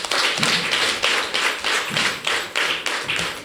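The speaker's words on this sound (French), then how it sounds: "Ça s'applaudit." An audience at a political party meeting gives steady applause, a dense crowd of hands clapping with a rhythmic pulsing swell, loud and close, with no talk over it.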